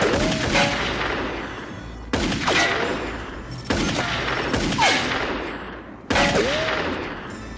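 Gunfire from a film shootout: four loud bursts of rapid shots, each starting abruptly and ringing out with echoing tails and whistling ricochets, spaced a couple of seconds apart, with no talk over them.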